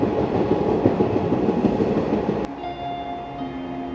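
A train running on rails between Banihal and Srinagar gives a steady, loud rumble, then shifts at the midpoint to a quieter interior hum with a sustained tonal whine.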